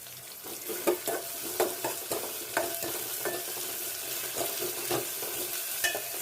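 Onions fry in a sizzling tempering with curry leaves for a meal maker curry, a steady close hiss broken by repeated stirring scrapes and taps every second or so, no voices.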